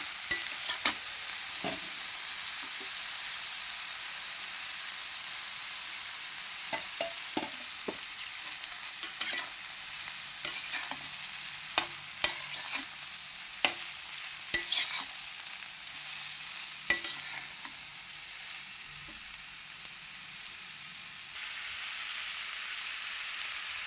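Boiled cauliflower florets and small potato pieces fry in a pan with a steady high sizzle, broken by sharp scrapes and taps of a stirring spatula.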